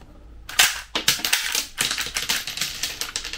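A realistic toy Glock pistol's slide racks and jams in a quick run of sharp plastic clicks and snaps, close and loud with no talking.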